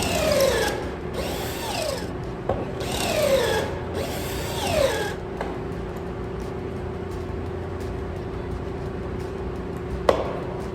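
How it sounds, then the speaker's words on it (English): A power drill whirs in four short bursts with rising and falling pitch while drilling pocket holes in clamped wood, followed by quiet and a single sharp click. "Clamp it in, and we're going to drill 2 holes in it on each end."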